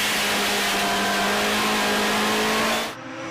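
A Ford Escort rally car's engine accelerates hard on a classic rally stage, a loud, steady high-pitched drone held for about three seconds before it cuts away abruptly near the end.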